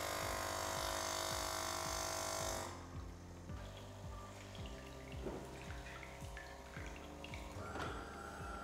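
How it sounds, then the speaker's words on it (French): A De'Longhi Rivelia espresso machine primes its empty water circuit on first start, its pump giving a loud buzzing drone, then a softer, regular pulsing rhythm with faint gurgles and clicks, close by. "Au premier démarrage, c'est à ce moment-là que vous aurez des bruits d'amorçage de pompe parce que le circuit d'eau est vide."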